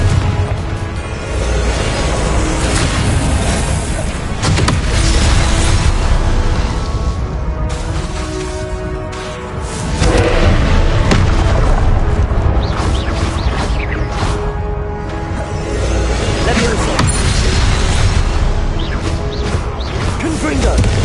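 Repeated booming blasts from the Confringo spell in Hogwarts Legacy, a dense series of loud explosive bursts over a steady game-music bed, with a voice speaking over the action.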